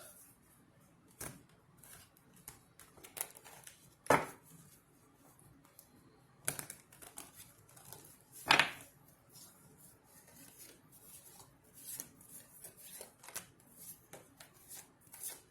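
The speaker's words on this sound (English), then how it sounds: "Big ass cards is hard to shuffle and hard to deal with" Large cards are shuffled and handled close by, with quiet intermittent riffles, slaps and taps separated by near-silence.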